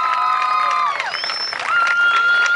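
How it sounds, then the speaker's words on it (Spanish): An audience at an outdoor cumbia concert on the Costanera applauds and cheers, with shrill whistles over a continuous wash of crowd noise. "Arriba el aplauso, más fuerte."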